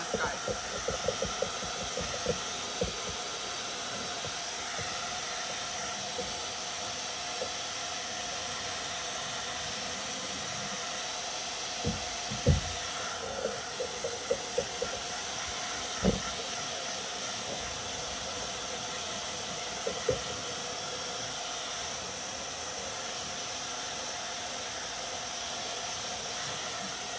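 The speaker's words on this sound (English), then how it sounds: "let me hit this with a blow dryer right quick" Blow dryer drying paint on a hand-painted haunted house Halloween yard sign: a steady, loud airy whoosh with hiss runs continuously for the whole stretch, broken by a few faint knocks and clicks of handling.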